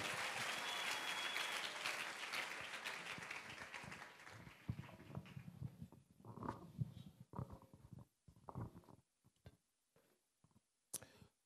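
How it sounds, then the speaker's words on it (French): A church congregation applauds loudly in a dense, sustained burst of clapping and cheering that thins into scattered claps and fades out near the end. "Quelqu'un peut acclamer très fort pour le roi des rois."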